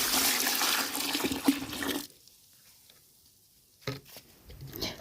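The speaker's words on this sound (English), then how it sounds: "I'm also going to be adding some rainwater" Rainwater poured into a bucket holding aloe vera chunks for homemade fertilizer, a loud splashing gush for about two seconds that cuts off, followed by quieter drips and sloshing.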